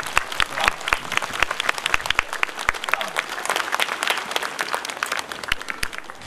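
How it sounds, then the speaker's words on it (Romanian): Dense, loud applause from a church congregation at the consecration of a church, with many sharp claps filling the whole stretch and a faint voice underneath. "Puteți să aplaudați cu mila Domnului."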